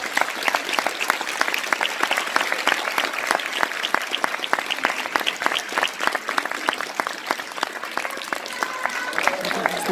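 A theater audience at a French interview event with a manga artist applauding cosplayers in the hall, sustained dense clapping from many hands, loud and close for the full length.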